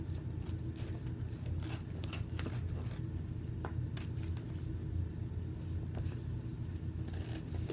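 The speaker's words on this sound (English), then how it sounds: "So I'm just going to cut the back of this Halloween webs." Scissors snip through a Chalk Couture Halloween web silk screen stencil in a series of short, crisp cuts spaced irregularly over a low rumble of passing traffic in the background.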